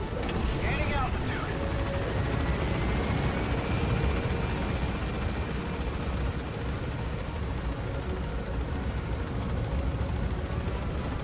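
Helicopter rotor and engine drone holding steady and loud as the aircraft climbs in Metal Gear Solid V: The Phantom Pain, a dense continuous roar with voices talking over it.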